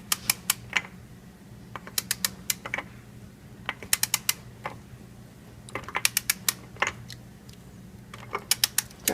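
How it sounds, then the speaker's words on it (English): Torque wrench tightening a bolt to 70 newton meters on oil cooler and filter housing seals of a Mercedes ML500 M112 engine: sharp ratcheting clicks in quick bursts separated by short pauses, close up, with no talking. "I've got my torque wrench set to 70 Newton meters. We'll get this torqued down here."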